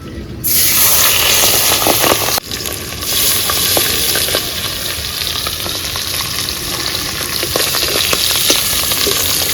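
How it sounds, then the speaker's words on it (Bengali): Pabda fish fry in a little oil in a pan, a loud, steady crackling sizzle that starts abruptly and continues close up with popping spatters, no voices. "সামান্য তেল দিয়ে মাছটা ভাজা করব"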